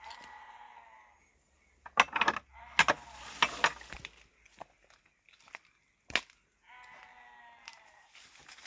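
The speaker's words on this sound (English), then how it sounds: "Yep, sheep." Sheep bleat a few times, faint and distant, in hilly North Wales countryside beside a graveyard, with footsteps and small clicks and knocks close by in between the calls.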